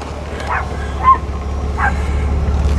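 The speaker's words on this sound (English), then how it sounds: "The big dog." A big dog barks a few times at a distance, three short muffled woofs spaced apart over a steady low rumble of a moving vehicle.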